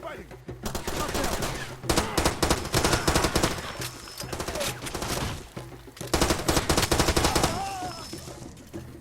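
Machine gun fire in Far Cry 2, several long, loud rapid bursts separated by short pauses, close and dominant throughout.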